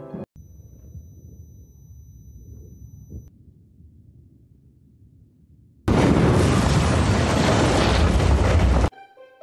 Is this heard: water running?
no